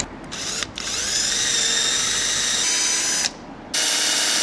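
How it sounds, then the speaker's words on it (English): A power drill fitted with a wire brush whirs loudly and continuously on rusty metal, cutting out briefly twice, with a high whine over a gritty scraping texture. "Our next contestant, a wire drill."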